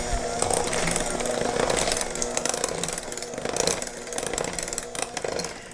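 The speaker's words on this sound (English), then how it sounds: "And blend everything together." Keto pound cake batter with orange extract, vanilla and orange zest is mixed by an electric mixer, giving a steady loud motorized whir with a gritty, buzzing texture that runs throughout.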